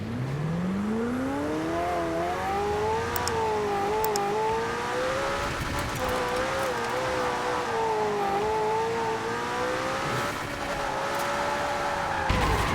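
A McLaren Senna in Forza Horizon 4 revving up through a rising engine whine, then holding a steady, wavering high drone as it drives on, loud and continuous with no talk.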